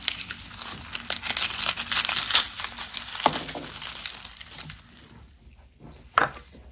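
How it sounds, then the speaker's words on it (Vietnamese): Garlic cloves being broken apart by hand from the bulb in a home kitchen, giving dense papery crackling and crinkling of skins that fades out, with a single sharper snap near the end. "Mình tách cái tép nó ra như vậy nè"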